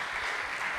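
Brief burst of audience applause at a gospel album launch, steady dense clapping filling the whole short moment without voices.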